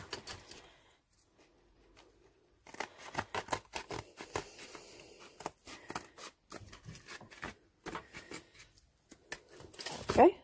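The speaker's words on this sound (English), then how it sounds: "So I'm just going to cut my 2 pieces." Scissors cut two pieces of glittery fabric for snap clips, a run of sharp irregular snips and rustles after a short quiet start, with speech heard among the cuts.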